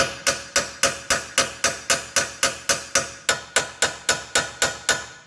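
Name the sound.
air hammer striking ball joint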